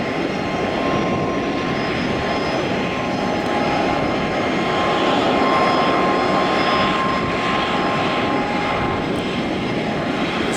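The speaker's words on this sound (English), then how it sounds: "So you can hear the Chicago flight just starting up its engines now at the gate." An American Eagle ERJ145 regional jet spools up its engines at the airport gate, a steady loud roar with a thin whine running continuously throughout, heard alone without talk.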